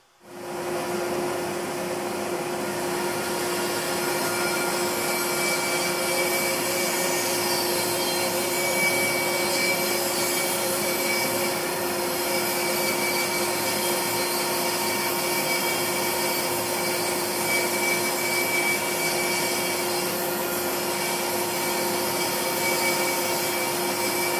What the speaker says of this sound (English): So I set the bandsaw up for resawing. I used my marking gauge to mark a line. So let's cut some boards.